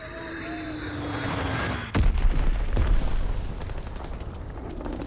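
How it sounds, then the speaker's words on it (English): A bomb detonates in the Call of Duty WWII battlefield, a sudden loud boom followed by a long rumbling roar and debris, after a brief airborne whine. "Enemy bomb incoming! Get to cover!"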